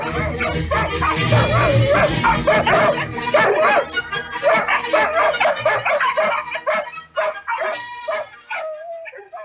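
Dogs barking and yipping in a dense, continuous pack, loud throughout as a sound effect, layered over what seems like music or other busy audiobook audio.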